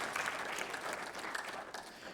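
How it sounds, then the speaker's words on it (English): A congregation at a spiritual service applauds warmly, a dense, steady wash of many hands clapping at a moderate distance without speech over it. "he deserves applause."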